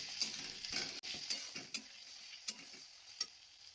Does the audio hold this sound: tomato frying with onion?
yes